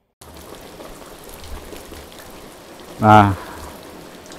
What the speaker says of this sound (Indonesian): gini ya situasi hujan di pedesaan.